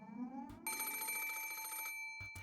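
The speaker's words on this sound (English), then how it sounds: "The sudden ring of the phone made me jump so hard I thought my heart would explode" A telephone bell rings loudly and suddenly in the Umineko video game, a bright sustained electronic ring on a bedside phone, preceded by faint ambient music and followed by the start of a second ring.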